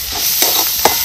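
A spoon stirs chopped onion into sautéed masala in a hot pan while cooking drumstick-leaf (moringa) bhaji, giving two short scraping, sizzling strokes over a steady low frying hiss.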